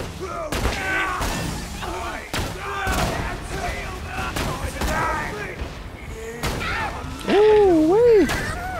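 Rapid bursts of video game gunfire, sharp cracks spaced through the stretch with echoing tails, mixed under someone talking, followed by a warbling electronic tone near the end.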